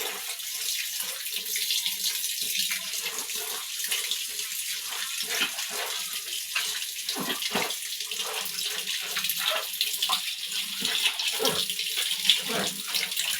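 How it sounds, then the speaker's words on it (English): Water pours steadily into a basin to soak clothes for hand-washing laundry in Vietnam, a continuous close splashing stream with faint sloshing, loud and unbroken throughout, with no voices. "First, I add water to wet the clothes."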